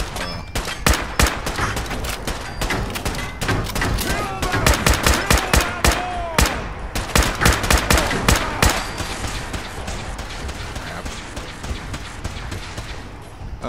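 Rapid gunfire in the video game Fallout 4, with sharp, loud shots in fast volleys and automatic bursts that run nearly continuously. Brief pauses break up the firing, and someone speaks occasionally.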